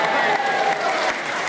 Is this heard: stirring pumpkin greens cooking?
no